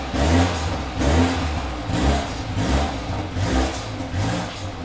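A turbocharged petrol car engine revs in repeated surges, roughly five rising and falling pulls in a steady rhythm, heard close and loud with a deep, throaty growl and no talk.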